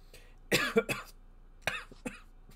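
A person coughs in two short bursts, a tight cluster of three harsh coughs followed after a pause by a second, softer group of coughs, close and clear with no talk.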